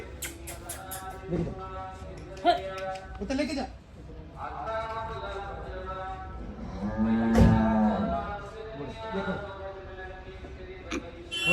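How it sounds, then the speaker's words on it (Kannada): Dairy farm cows lowing, several drawn-out moos rising and falling at moderate distance, with people talking over them. "ಇನ್ನೊಂದಿದೆ ಫಾರಂ ಹಸುಗಳು ನೋಡಿ"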